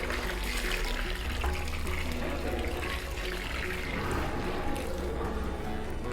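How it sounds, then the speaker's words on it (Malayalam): Coconut milk pours into a pan of boiling jaggery syrup for Kerala jackfruit halwa, a steady, close liquid splash and gurgle that runs unbroken for the whole stretch with no talking. "ഇത് തിള വന്നു കഴിഞ്ഞ് നമ്മളിനി അടുത്തത് തേങ്ങാപ്പാലാണ് ഇതിലേക്ക് ഒഴിക്കുന്നത്."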